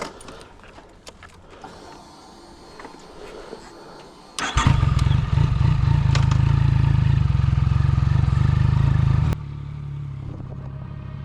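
A Yamaha MT-09 Tracer motorcycle engine fires up partway through, following quiet handling noises, then settles into a loud, steady idle close by before the level drops slightly near the end.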